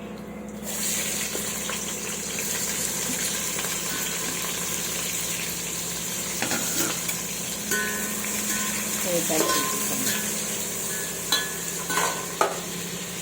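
Continuous sizzling of mushroom biryani ingredients browning in a hot pan with intermittent scraping and stirring clatter, a steady hiss running throughout.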